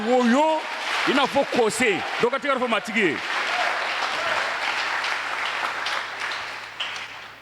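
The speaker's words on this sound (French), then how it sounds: "Quelqu'un acclame le Seigneur." A church congregation acclaims the Lord, first with loud rising and falling vocal cries and shouts, then breaking into sustained, dense clapping and cheering that fills the room.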